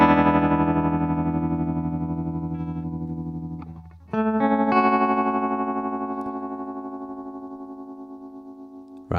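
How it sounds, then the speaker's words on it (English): A guitar plays sustained chords through a Nembrini Double Reverb amplifier with its vibrato set slow, the notes wavering gently and ringing long, close and loud, with a second chord struck midway. "Right, there's a real slow vibrato."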